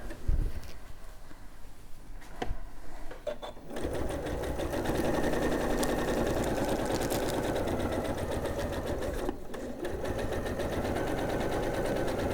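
A sewing machine back stitches and then runs forward on a quilt: a fast, steady mechanical whir that starts after a short pause, holds close and loud, and dips briefly before resuming.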